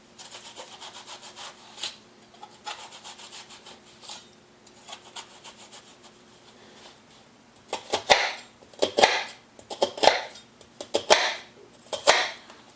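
Knife chopping through an onion on a cutting board while making a green pepper, rice and turkey casserole: a series of light, fairly close slicing strokes, then louder, quicker chopping bursts in an uneven rhythm toward the end, with no talk.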